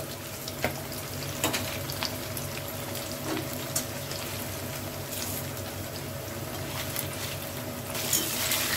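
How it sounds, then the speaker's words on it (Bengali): Paneer fries in oil with a soft, steady sizzle and faint crackles, punctuated by a few light clinks of utensils. "বাকি পনিরগুলো ভেজে নিচ্ছি"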